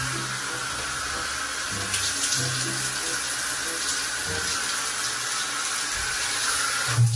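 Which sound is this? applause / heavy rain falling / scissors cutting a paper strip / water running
water running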